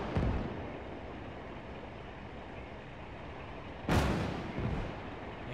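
Artillery harassing fire in the World War II strategy game Valour, North Africa battle: a steady rumbling bombardment bed with a sharp, loud blast near the start and another heavy impact later, no talk.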